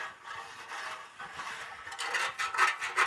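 A utensil scraping the bottom of a roasting pan while gravy is made, a steady close rasping rub that grows louder and more rhythmic toward the end.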